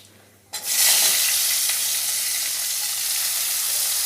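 Chopped onion drops into hot oil already seasoned with black cumin and a split dried chilli, setting off a sudden loud sizzle that holds steady and dense, close up, with no talking.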